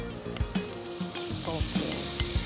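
Chicken, about 250 grams, sizzling as it fries in a pan, with steady crackling and a few clanks and scrapes of a utensil, close and moderately loud, no talking.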